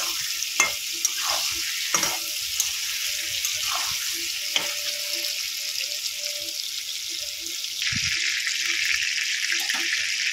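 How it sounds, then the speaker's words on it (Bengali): Sliced ridge gourd fries in hot oil seasoned with salt and turmeric, giving a steady close sizzle broken by occasional stirring scrapes and clinks, growing louder near the end. "এতেই আমি এটা ঝিঙেটা ভেজে নেব।"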